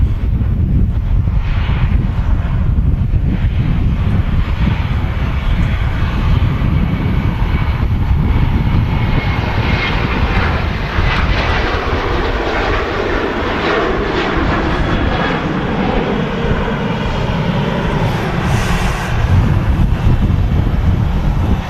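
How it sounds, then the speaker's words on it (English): Malta Air Boeing 737-800, a Ryanair subsidiary jet bound for Berlin, taking off at Manchester Airport, a loud sustained jet engine roar that holds steady with wind buffeting, no voices. "This is operated by Malta Air, well, the subsidiary of Ryanair. This is off to Berlin. It's a 737-800."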